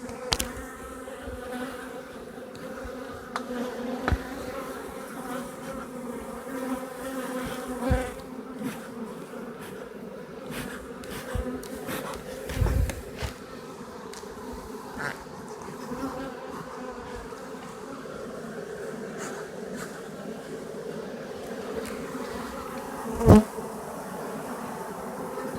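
A virgin honey bee swarm with many queens buzzes steadily outdoors, a dense continuous drone from many bees with individual insects whizzing close past now and then.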